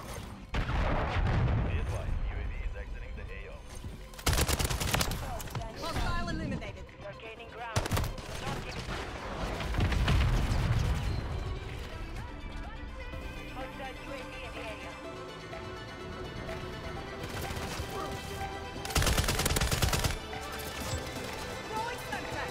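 Raal MG light machine gun fire in the game Call of Duty: Modern Warfare III, with loud automatic bursts and booming impacts recurring through the fight under a continuous game soundscape, with a voice talking over parts of it.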